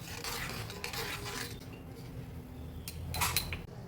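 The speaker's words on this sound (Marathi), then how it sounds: "आता याला आपण चांगलं ढवळून जाऊ" A spoon scraping and clinking against a bowl while stirring a spice mix of cumin powder, salt and sugar for dabeli, close and fairly quiet, with a few sharper clinks near the end.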